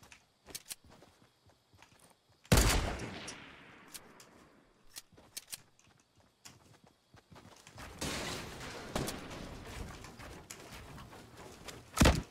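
Gunfire in Fortnite Battle Royale, scattered sharp shots at irregular intervals, with a louder nearby burst early and more shots later over a low background of game ambience, no talk over it.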